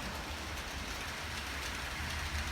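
OO gauge model trains running on a home layout, two trains at once, giving a steady low rumble and whirr of wheels on track with continuous rail noise, no talk.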